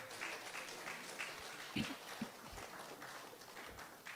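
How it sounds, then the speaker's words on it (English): A crowd at a St. Lucia Labour Party rally in Soufriere applauds. The clapping is faint and distant, a steady patter with a few sharper thumps, heard from far off. "And you must give yourself a round of applause."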